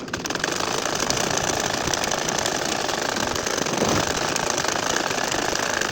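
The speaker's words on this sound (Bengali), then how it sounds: "আমি তোমাদের আরও একটা লাইন সেলাই করে দেখাচ্ছি।" A sewing machine stitching a nakshi kantha quilt, giving a loud, continuous rapid mechanical whirr and rattle that runs unbroken from start to finish, with no talk.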